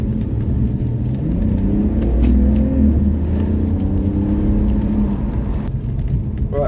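A VW Golf GTI MK4 25th Anniversary Edition is driven, heard from inside as a steady engine rumble that rises through gears with audible revving and road noise. The engine note then drops toward the end.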